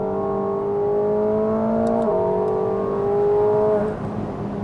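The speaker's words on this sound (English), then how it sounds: "This new exhaust has a beautifully even tone, little burble tune." A 2024 McLaren 750S supercar's engine drones loudly at a steady pitch through a tuned exhaust, the tone shifting as it revs, accompanied by a faint high turbo whistle.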